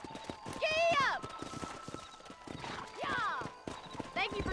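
A horse in the Red Dead Redemption video game, with clip-clopping hooves and repeated loud whinnies over a busy ambience; a voice speaks over it.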